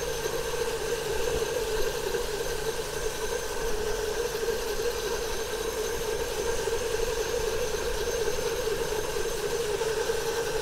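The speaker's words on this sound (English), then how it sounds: "So with our 45 meters of pressure hose. We're going to go along and we're going to clean the tops of the panels." A Sola Tecs C1000 pressure hose setup cleans residential solar panels, giving a constant, fairly loud motorized drone that holds steady throughout.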